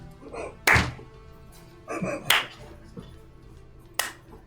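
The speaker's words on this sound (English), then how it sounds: "Eric, are you slow clapping us?" Slow clapping heard as three sharp, isolated claps spaced well apart, close and loud, with quiet murmuring between them.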